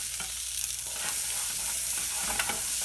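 Margarine melts in a pan with a constant, close, frothy sizzle and a few light scraping taps from stirring.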